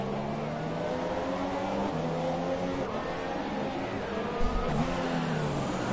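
Formula 1 cars in F1 2017 on the USA circuit scream past at high revs, with steady whining engine tones that shift as gears change and a second car joins near the end, loud and close.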